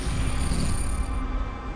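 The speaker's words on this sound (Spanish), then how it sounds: "Oye el ruido de las piedras de fondo" A continuous low rumbling, grinding rattle of stones tumbling over one another on the seabed, steady and close, with no voices.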